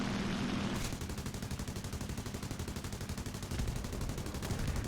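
An SB2U-2 dive bomber's forward machine guns fire during a strafing pass in the flight game War Thunder, a continuous rapid, rattling stream of shots over a steady droning engine, with no talk.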